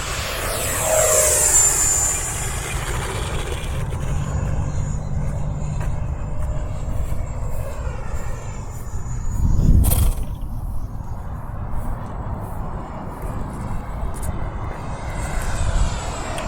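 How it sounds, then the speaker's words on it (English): A small E-flite Edge 540QQ 280 RC airplane on its maiden flight, its electric motor whining and shifting pitch as it passes overhead, with a louder surge midway and a voice briefly heard. "that was my maiden flight on the E-flite Edge 540 QQ280, and this thing flies really, really well"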